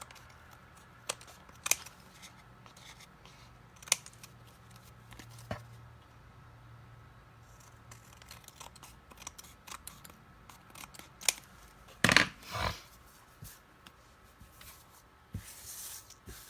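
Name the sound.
cutting paper card scraps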